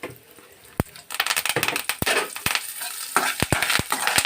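Curry leaves tossed into hot tempering oil with asafoetida, the stove just switched off: a single crack, then a sudden burst of loud spitting and crackling, with sharp pops through a few seconds of steady sizzle.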